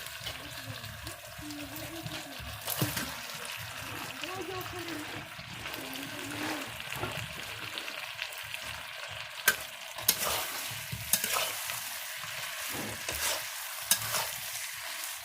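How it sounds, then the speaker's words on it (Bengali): Potatoes and eggs tumble into a mutton curry that is being fried down, bringing a steady sizzle, wet stirring and occasional sharp clinks, with a voice talking faintly underneath. "এবার সেই আলু আর ডিম দিয়ে দেবো সব সব ঢেলে দেবো"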